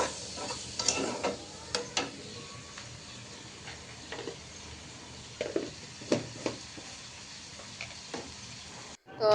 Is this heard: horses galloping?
no